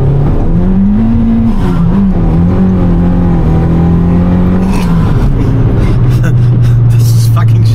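A race car engine, from an Opel Corsa B C20XE or Fiat Panda 200 on an airfield race course, roars loudly and steadily under hard acceleration, its pitch rising and then dropping after a gear change.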